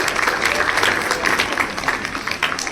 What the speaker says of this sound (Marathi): सर्वांनी जोरात टाळ्या वाजवा